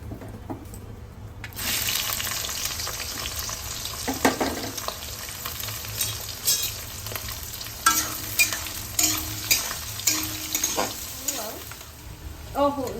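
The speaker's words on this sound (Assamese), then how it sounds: "তাৰপিছত আমি পিঁয়াজখিনি দিম" Onions hit hot oil already seasoned with cloves, cardamom and cinnamon for a duck curry, giving a loud, steady sizzle that starts after a quiet second, with scraping stirs and utensil knocks and no talking.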